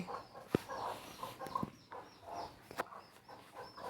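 Chickens cluck and call in short bursts, fairly close, with a few sharp knocks in between; no one speaks.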